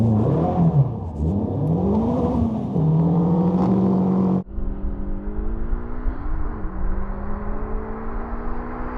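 Two cars launch hard from a standing drag race start, a Caterham and a V8 Mercedes-AMG GT with over 470 horsepower, their engines revving up loudly through rising gear pulls before the sound shifts to a steadier, more distant drone.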